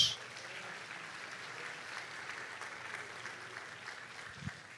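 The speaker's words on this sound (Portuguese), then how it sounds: "Aplauda a Jesus" A church congregation applauds together, a steady, diffuse wash of clapping that fills the room at moderate loudness, heard from a distance with no single claps standing out.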